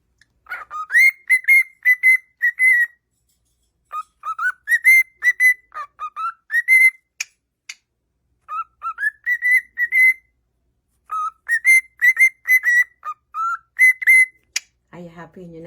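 A cockatiel whistles a repeated tune in clear bright phrases, several bursts of melodic whistling separated by short pauses, close and loud with no talk over it.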